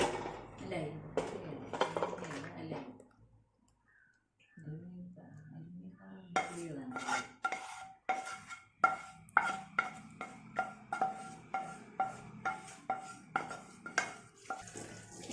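Metal pot and utensils clank and clink as homemade ghee is shifted into an aluminium pan, a steady run of sharp, close knocks and scrapes after a short lull, with a voice talking early on.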